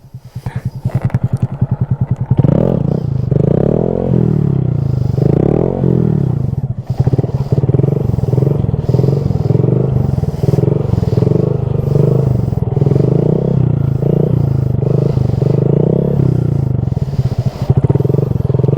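A Honda Grom 125cc motorcycle rides in circles close by, its engine rising and falling steadily as the rider works the throttle, with a brief sputter at the start and a constant nearby drone throughout.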